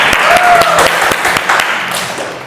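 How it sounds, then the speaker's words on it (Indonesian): Audience applause at a classroom-style talk on national insight, steady clapping that fades slightly toward the end, with a voice briefly heard over it. "Tepuk tangan."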